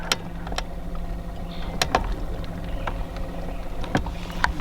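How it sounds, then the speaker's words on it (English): Steady low hum of a small electric trolling motor pushing a fishing boat forward toward a shallow point, with faint water wash and a few sharp clicks and knocks scattered over the drone. "I'm going to move us forward with the trolling motor"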